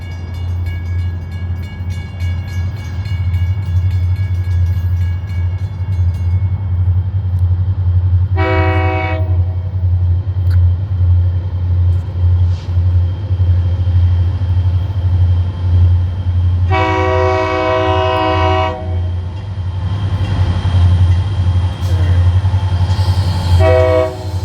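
Florida East Coast Railway train rumbling past a level crossing near St. Augustine, with a steady low engine and wheel roar throughout, a near, loud two-tone horn blast, then a longer horn sounding and a final horn burst.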